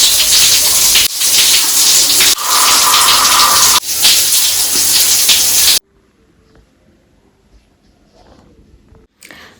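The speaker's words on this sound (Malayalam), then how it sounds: "പിന്നെ അതൊക്കെ കഴിഞ്ഞ് നേരെ ഞാൻ പോയിട്ടൊരു കുളി പാസ്സാക്കാൻ നിന്നു." Shower water runs in a home bathroom after a day of room cleaning, a loud, steady hiss of spray broken by brief cuts, then dropping to near silence with faint room noise.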